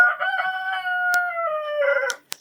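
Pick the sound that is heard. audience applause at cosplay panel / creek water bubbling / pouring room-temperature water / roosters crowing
roosters crowing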